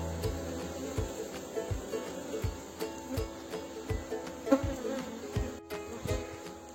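Honey bees buzz steadily, close by and fairly quiet, with short pulses as they fly around during a varroa mite infestation check on a beehive colony. No one speaks.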